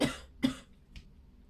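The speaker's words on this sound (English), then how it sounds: "Excuse me, I'm going to cough." A person who is nearly over an illness coughs twice in close succession, two sharp nearby bursts, followed by a softer short throat noise, with no talking.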